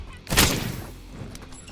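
A burst of gunfire in the shooter game Holy Shoot, a sharp, loud blast near the start that decays into a rumbling tail, with faint smaller shots trailing after.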